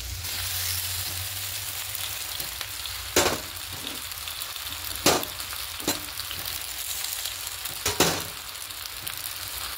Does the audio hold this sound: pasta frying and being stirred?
yes